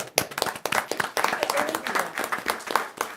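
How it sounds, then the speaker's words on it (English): A small crowd at a city council meeting gives a round of applause: quick, uneven hand claps from several people nearby, lasting a few seconds at moderate volume. "Round of applause."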